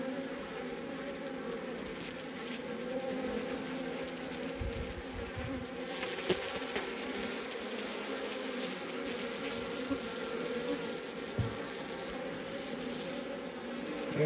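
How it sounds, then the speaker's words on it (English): Honeybees swarm around an opened hive being tended with a smoker, making a dense, steady buzzing hum that fills the whole stretch without pause, close by and with no voices. "They're starting to buzz around a little bit."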